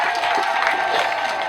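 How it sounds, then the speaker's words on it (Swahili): Pupils and staff gathered at a Tanzanian primary school clap together, producing a brief burst of crowd applause with some cheering mixed in and voices murmuring beneath. "Tujipigie makofi"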